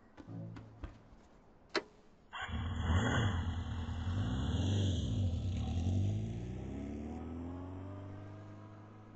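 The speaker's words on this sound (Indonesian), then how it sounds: "aku sedang naik motor" Motorcycle being ridden, a steady engine drone with wind roar that rises in after a few sharp ticks and clicks at the start and carries on loud and close to the end.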